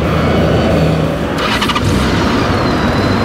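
A heavy 115 hp motorcycle weighing around 380 kg idles in a steady, quiet, close rumble, with a brief rise in revs near the middle before settling back to an even idle.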